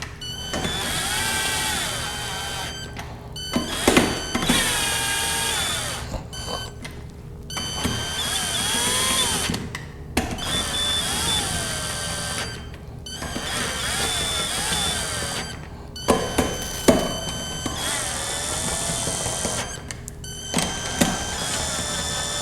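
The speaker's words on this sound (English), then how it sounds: "let's go ahead and tighten the bolts" On a Honda transmission, a power tool runs bolts down in repeated whirring bursts a few seconds long, each pitch rising and falling, with short pauses and clanks between them.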